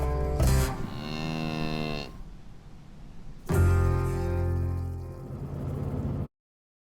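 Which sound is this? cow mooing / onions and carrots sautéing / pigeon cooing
cow mooing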